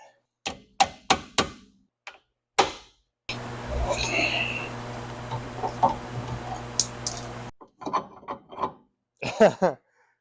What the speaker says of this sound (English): Got our impact hammer here. Pull the screw out.